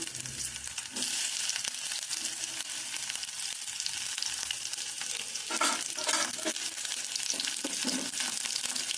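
Garlic sizzles and fries steadily in hot oil for a tempering, a constant crackling hiss close by with a few louder spitting bursts toward the end.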